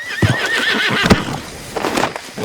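A horse in the video game Red Dead Redemption 2 whinnies loudly and close by, a wavering high neigh followed by snorting and a few hoof clops.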